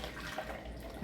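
Fresh juice from a NAMA J2 juicer pours into a container, making a soft, continuous liquid splashing and trickling that stays fairly quiet and steady throughout.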